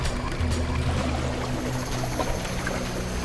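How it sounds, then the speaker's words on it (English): A tidal wave floods a shore as a dense, continuous roar and rush of surging water, loud and close with no voices. "Just then, a tidal wave of water flooded the shore."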